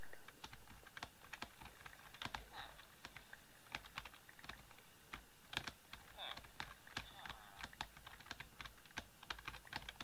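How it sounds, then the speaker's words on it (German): Fast, steady typing on a computer keyboard while playing Minecraft Bedwars, with crisp, dense key clicks close up, continuous throughout at low volume. "Das hört ihr, wie die Tastatur so ist."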